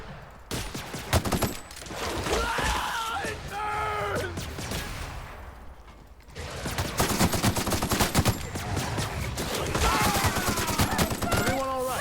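Rapid gunfire in The Outer Worlds combat, dense automatic bursts and repeated shots filling the clip, loud and continuous with a short lull midway, game voices shouting over it.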